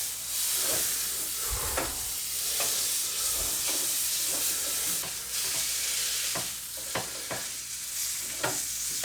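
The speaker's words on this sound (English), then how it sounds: "we're going to get the butter in now to melt" Butter melts and sizzles in a hot pan that has just browned beef for a slow cooker sandwich. A continuous bright frying hiss runs throughout, broken by several sharp spatters and utensil scrapes, with no talking.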